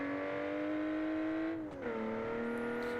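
An inline-six engine in the BeamNG driving game revs loudly and steadily with a strong droning tone, dropping in pitch briefly before settling at a lower, sustained note, with no talking over it.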